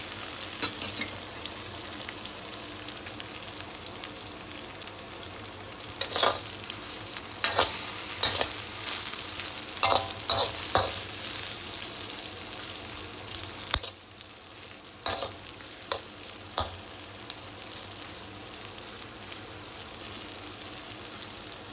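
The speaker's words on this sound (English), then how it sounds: "I'm adding a little bit of oil so that I will fry all my ham and also" Ham and bean curd fry in oil in a pan for Maggie goreng. A steady sizzle runs throughout, broken by several sharp scraping stir strokes, and no voices are heard.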